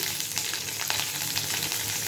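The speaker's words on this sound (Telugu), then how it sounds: "కొంచెం జీలకర్ర వేసుకుని మంచిగా వేపుకోవాలండి" Cumin seeds and spices sizzle and crackle steadily in hot oil, a close, continuous frying hiss with small popping bursts.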